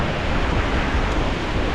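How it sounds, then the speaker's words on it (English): The Shimshal river in the Karakoram mountains of Pakistan rushes past in a steady, dense roar of flowing water, loud and unbroken throughout with no voices. "This is the Shimshal river coming down."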